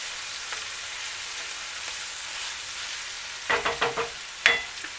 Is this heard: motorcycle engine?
no